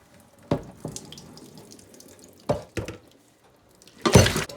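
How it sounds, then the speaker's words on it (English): Cold tap water runs in short bursts into a pot of hard-boiled quail eggs sitting in a kitchen sink, with splashing gushes, quiet drips between them, and a louder final rush near the end. "put the pot in the sink and fill it with cold tap water and flush the eggs"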